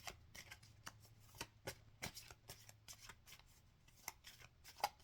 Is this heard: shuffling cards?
yes